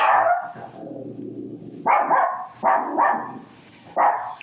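A dog barks several times in short, loud bursts during an indoor conversation between friends, with quieter whimpering and rustling in the gaps between barks.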